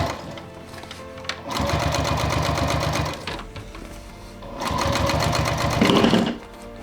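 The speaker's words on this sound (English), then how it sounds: "Spreading the seam allowance while I'm sewing." A sewing machine stitches the seam of a handmade bag in two long, steady bursts of fast mechanical whirring, close and loud, with short pauses between them and no talk.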